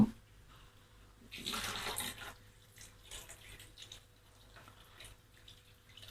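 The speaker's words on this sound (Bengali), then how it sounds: "আমি এখানে এক কাপ মতো পানি দিয়ে দিলাম" A brief burst of water, about a cup, pouring into a pan of tengra fish curry with onions, lasting about a second, followed by quieter kitchen clatter and faint trickling.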